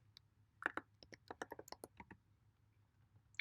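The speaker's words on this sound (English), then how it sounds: "Oh no, I'm typing it wrong." Fingers type on a computer keyboard in a quick irregular burst of about a dozen soft clicks, close but quiet, with no speech.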